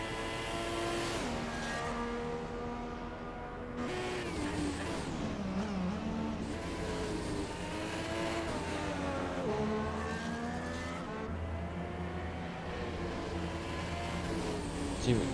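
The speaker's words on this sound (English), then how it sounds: "Keo is off in his Ferrari." A Ferrari race car engine on a flying lap at the Japanese Grand Prix in a racing video game, the steady high-pitched whine rising and falling through gear changes and corners, heard fairly faintly and without speech.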